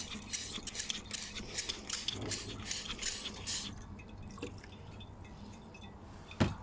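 Liquid dripping through a filter during an e-waste gold recovery experiment after rinsing with distilled water, heard as soft irregular drips and trickles up close with faint clinks of glassware, and one sharper knock near the end.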